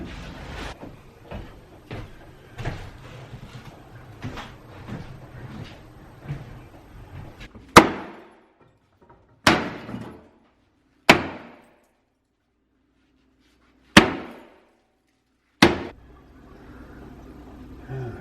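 Renovators hammer apart a cast iron bathtub: a run of lighter, regular knocks, then five loud, ringing metallic clangs spaced a second or two apart, each fading out into near silence.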